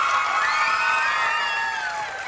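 A high school audience cheers and shouts during a comedy stage show, a bright, sustained wash of crowd noise and whoops that holds steady and fades slightly near the end.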